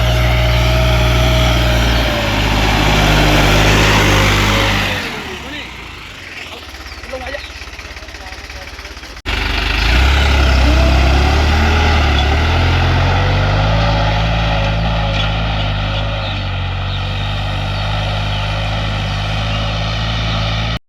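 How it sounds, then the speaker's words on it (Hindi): A New Holland 3630 tractor drives across a field pulling a cultivator to prepare ground for wheat, its engine droning steadily and loudly close by, dipping briefly mid-clip before returning at full strength. "ये है भाई अपना न्यू हॉलैंड का 3630।"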